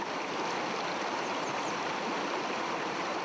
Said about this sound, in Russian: Бурные потоки талой воды с плато и горных вершин устремляются в Большой каньон.